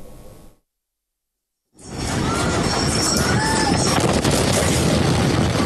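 A massive explosion in a city, seen in news footage, bursts in suddenly after a moment of silence and swells into a loud, sustained, rumbling roar.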